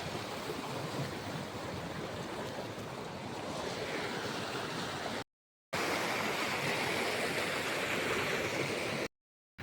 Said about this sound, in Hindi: चौथा रिवर, काकोसांग वाटरफॉल का चौथा रिवर।